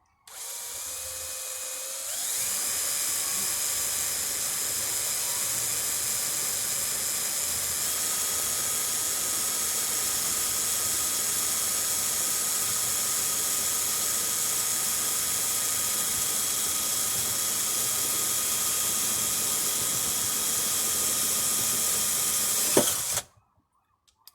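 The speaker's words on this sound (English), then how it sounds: "I think I'm going to drill right there." A power drill whirs at a constant high pitch for about twenty seconds without pause while drilling into a 1958 AMC Rambler Super, then stops abruptly.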